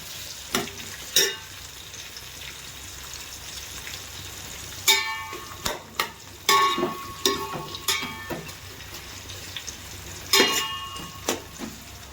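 Chopped onions sizzle and crackle in hot oil for a spicy chicken biryani, with a steady frying hiss and louder bursts as they are stirred now and then, close and without voices.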